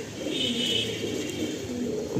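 Pigeons in a loft give low, soft cooing murmurs that roll on steadily for a couple of seconds, with some faint background hiss and no voices.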